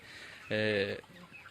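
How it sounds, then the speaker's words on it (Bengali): A chicken in a modern poultry farm cage gives a single short, bright cluck or squawk that rises briefly over a quiet, steady farm background. "আমাদের যে মুরগিগুলো কি সুন্দর পরিবেশে আছে দেখেন"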